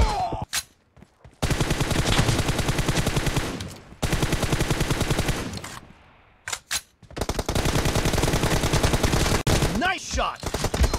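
Automatic weapons fire in PUBG Mobile comes in long, loud, rapid bursts separated by short silences, with a few single shots and brief game sounds in the gaps.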